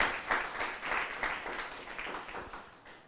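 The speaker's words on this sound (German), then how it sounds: "Ja, ein Applaus auf jeden Fall." An audience at a live football club talk show applauds in a steady, fairly close burst of clapping that gradually tapers off over three seconds, with no speech over it.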